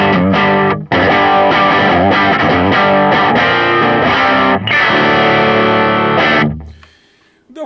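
Heavily distorted electric guitar through the default amp tone of Bias Head software plays loud chugging riffs and sustained chords, with short breaks between phrases, before ringing out and fading to near silence at the end.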